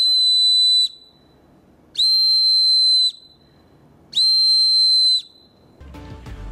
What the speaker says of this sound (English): Whistles provide a very loud sound that require little blowing effort.